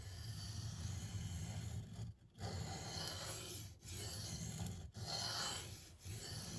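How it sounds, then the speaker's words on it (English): Knife blade, Maxamet steel in a Para 3, ground on a Venev 240/400 resin-bonded diamond stone with steady back-and-forth rasping strokes, several short pauses between passes, close and continuous with no talking. "You just have to switch back and forth on both sides of the bevel and just make sure you're grinding evenly"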